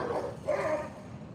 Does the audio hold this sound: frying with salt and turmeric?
no